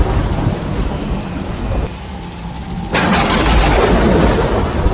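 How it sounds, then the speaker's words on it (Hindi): Thunder rolls and crashes over steady heavy rain on a dark night, a loud storm that grows fuller and brighter partway through, with no voices. "अंधेरी रात में कड़कती बिजली के साथ जोरदार बारिश हो गई।"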